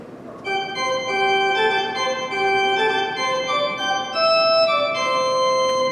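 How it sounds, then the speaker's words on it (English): An Austin pipe organ's Positive Division at Luther Memorial in Madison plays a light, sparkly passage of bright sustained notes that step through a melody, steady and moderately loud with no voices. "behind it is called the Positive Division, and that has a nice light, sparkly sound like this."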